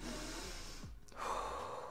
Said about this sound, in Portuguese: Tu pode respirar alto